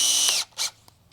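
Makita power drill whirring briefly at high speed, then cutting off, followed by a second short burst and a faint click, close and alone.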